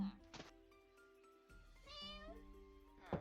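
A cat meows in the Minecraft video game, with several drawn-out tonal meows one after another, fairly close and clear, plus a soft thunk near the start and quiet game ambience.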